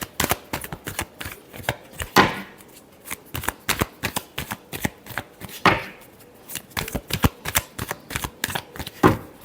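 A deck of tarot cards is shuffled again and again up close, with quick crisp riffles and slaps in an uneven rhythm and brief louder flourishes now and then, no talking over it.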